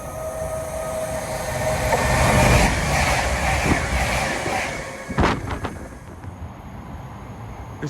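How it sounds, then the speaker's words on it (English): A York–Birmingham passenger train passes close by, a loud rushing roar that builds and then fades, with a sharp metallic clank near the end before the sound settles to a lower rumble. "This York Birmingham service was 11 late leaving Sheffield"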